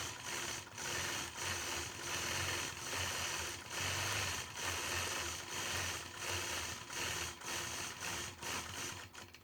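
Sewing machine quilting stitches across a quilt block, a quiet rapid mechanical whirring in repeated bursts separated by brief pauses, soft and close.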